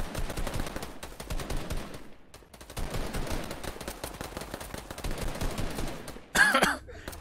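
Rapid gunfire in a competitive Fortnite match, with dense bursts of shots from several directions at mid distance and a sharper, louder burst near the end.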